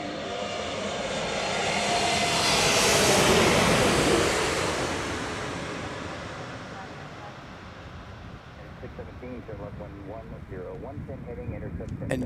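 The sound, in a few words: Lufthansa Flight 430 from Frankfurt passing at Chicago O'Hare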